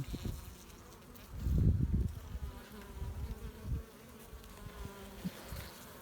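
Honeybees buzz steadily around a newly inseminated breeding queen bee, a close, low droning hum that swells into a louder burst midway before settling back.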